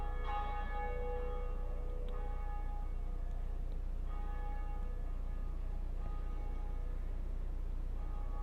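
Bell of Awakening in the Dark Souls video game tolls with resonant, ringing strikes roughly every two seconds. Each one fades slowly over a steady low background hum.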